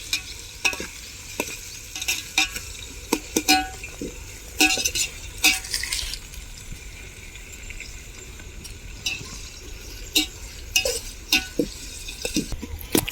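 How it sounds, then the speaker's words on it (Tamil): Onions sautéed and stirred in a pot for a village-style 1 kg chicken biryani, a steady sizzle broken by frequent scraping and clinking strokes of a ladle against the metal pot. "இந்த வெங்காயத்தை எவ்வளோ நேரம் வதக்கணும்?"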